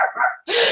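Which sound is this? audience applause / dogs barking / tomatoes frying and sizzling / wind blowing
dogs barking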